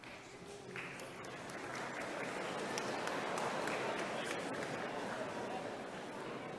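An audience at a spring university commencement ceremony in Dickinson, North Dakota applauds, with sustained clapping that swells and holds steadily from a large crowd in a hall.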